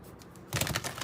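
Tarot cards being shuffled by hand: a quiet, close, rapid fluttering burst of card edges that begins halfway through and lasts about half a second.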